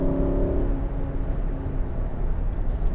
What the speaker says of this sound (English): there is definitely going to be a bit of wind noise, but it's not terrible